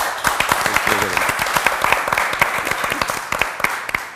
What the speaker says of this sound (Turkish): Bir alkış da Cengiz Bey için istiyorum çünkü günün şampiyondur kendisi.